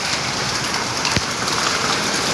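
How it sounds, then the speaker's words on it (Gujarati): Steady rain pours during a storm with lightning and thunder, a dense continuous hiss of drops on surfaces, close and even throughout with no voices. "વરસાદ વરસી રહ્યો છે."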